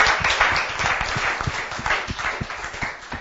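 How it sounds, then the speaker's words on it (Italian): An audience applauding at a prize-giving for a youth cycling road race in Rosà, producing steady, dense clapping throughout. "Un applauso."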